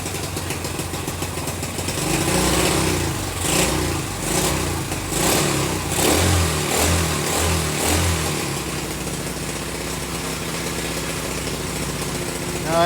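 A small pit bike engine, freshly brought back to life and running smoky, idles and then revs in repeated bursts before settling back to a steady rumble, close by with no talk.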